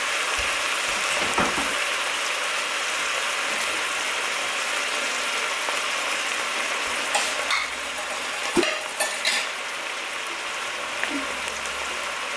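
Minced meat for bolognese frying and sticking in a pot, a steady hiss of sizzling with occasional scraping and clinking from stirring, with no voices.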